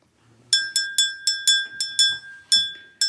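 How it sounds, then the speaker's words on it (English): A small bell rung before a tarot reading gives a series of bright, clear dings, about ten strikes at an uneven pace, each ringing out and fading before the next. "I ring my bell before any reading"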